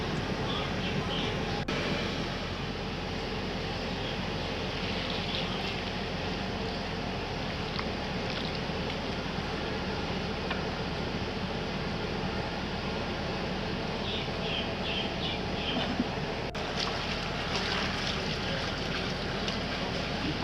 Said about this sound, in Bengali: ঝোলটা ফুটে গেছে ভালোভাবে